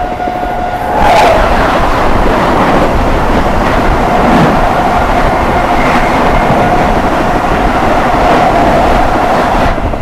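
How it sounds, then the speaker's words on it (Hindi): The VVIP New Delhi–Prayagraj Express train rushes past near Etawah Junction, a loud, steady rumble of wheels and rail with a rhythmic clatter and a high horn-like tone near the start, sustained throughout. "सामने से आ रही है दी VVIP new Delhi Prayagraj express."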